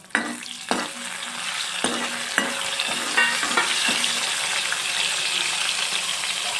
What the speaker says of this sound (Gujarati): એક ટીસ્પૂન મેથી હવે આપણે હલાવી દઈશું